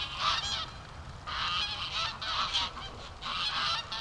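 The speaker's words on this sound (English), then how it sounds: "Oh, the geese are coming." A flock of geese honks in repeated bursts, fairly close, on a drizzly day at a free-range duck farm, with steady outdoor ambience between the calls.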